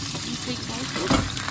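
Teriyaki chicken sizzles in a pan, a steady close frying hiss with a brief louder burst as a piece is turned.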